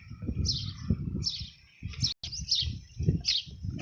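Small birds chirp in short bright bursts, repeated every second or so, over a low rumbling background with a brief dropout midway.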